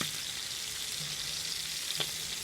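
Small chorizo and diced pork belly fry in oil in a paella pan, giving a steady close sizzle with faint crackles throughout a short stretch.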